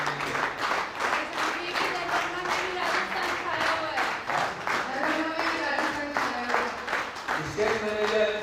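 Audience applause and clapping for a music designer at a Hindi stage play performance, a dense steady patter of many hands filling the room, with a voice speaking over it throughout.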